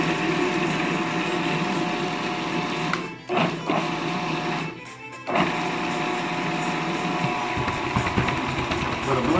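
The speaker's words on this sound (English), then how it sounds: "I'm gonna go ahead and give it a little spin before I add the rest of the ingredients." A blender whirs steadily as it spins ground beef and mild Italian sausage for cannelloni. The loud, close motor drone cuts out briefly twice, then resumes.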